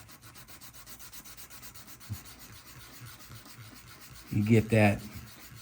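Light back-and-forth sanding on the back side of a Street Hawk light bar part, a steady rhythmic rubbing close up, with a brief louder burst of scraping near the end.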